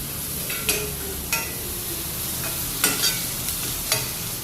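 Finely chopped onion frying in a pan, a continuous close sizzle broken by several sharp spoon-on-pan clacks and scrapes at irregular intervals, no voices.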